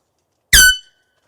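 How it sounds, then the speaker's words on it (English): A single short, loud air horn blast, carried as bear deterrent on a camping trip, sounding once for about a third of a second and then cutting off into silence. "air horn to keep Yogi away."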